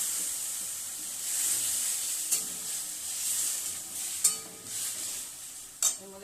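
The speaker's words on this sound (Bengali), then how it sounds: "নারকেলটা ভাজা ভাজা হয়ে গেছে, এর মধ্যে এবার আমড়াটা দিয়ে দিলাম।" Fried coconut and freshly added hog plum (amra) sizzle softly in a pan, with steady stirring and a few sharp utensil clinks against the pan.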